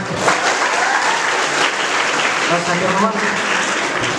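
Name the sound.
audience applause at school event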